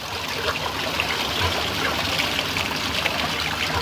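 Cold spring water from a highland source runs steadily over a quartz stone being washed outdoors, a continuous close trickling and splashing with no voices.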